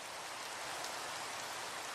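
Rain in an animated short, a steady dense hiss of falling drops on surfaces, continuous and even throughout, with no voices over it.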